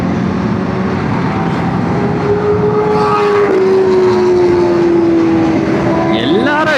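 A Kawasaki ZX10R superbike on a hill road in Kanchanagiri, its exhaust giving a loud, sustained engine roar with a rising and falling tone, close and steady throughout.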